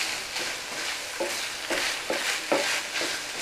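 Seasoned hamburger meat and onions stirred in a frying pan, a soft steady sizzle broken by repeated scraping strokes of a spatula, close and fairly quiet with no talking.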